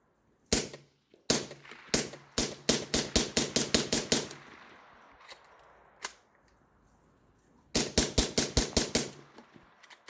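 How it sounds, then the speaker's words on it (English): A GBD-22 blaster fitted with a Bore Buddy kit fires sharp, snappy shots up close, first as scattered single shots and then as quick bursts of rapid repeated cracks, with quiet gaps and a few isolated shots between bursts. "It's very nice to shoot this thing with that Bore Buddy kit because the recoil impulse is way better."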